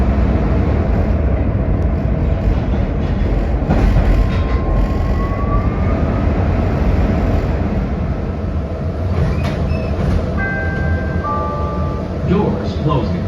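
A Chicago CTA train runs from elevated track down to grade, a loud continuous rumble of wheels and car noise throughout, with brief high squeals near the end.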